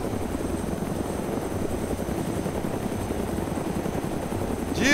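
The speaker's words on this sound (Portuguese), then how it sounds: "Helicóptero forte do caralho esse aqui, mano." A helicopter flies in the survival game DayZ: a loud, steady rotor chop with a rumbling engine drone, holding close throughout and swelling slightly at the end, with no voices.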